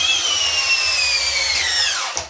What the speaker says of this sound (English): Hart brushless drill driver and a fully charged 4 amp hour battery.